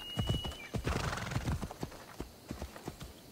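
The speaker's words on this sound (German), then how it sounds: "So, wir reiten uns aber mal querfeld ein" A horse gallops across open country in Assassin's Creed Odyssey, with rapid, close hoofbeats in a steady rhythm, a whinny near the start, and the beats thinning out toward the end.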